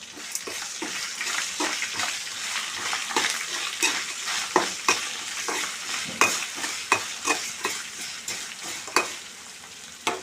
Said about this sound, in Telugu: ఈ ఫ్రై అయిన దానిలో అల్లం వెల్లుల్లి పేస్టు, కొంచెం సాల్టు వేసుకొని ఫ్రై చేయాలి